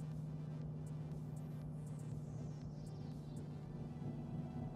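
A car holds third gear through a ZF 6-speed gearbox, its low steady drone and hum continuous under faint road noise.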